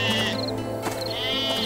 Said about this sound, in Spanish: algunos pastores estaban vigilando a sus rebaños de ovejas